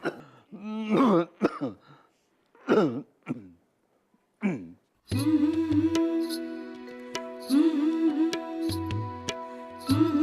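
A woman clears her throat and coughs in several short bursts near the start, followed by a long stretch of sustained music with a steady tone.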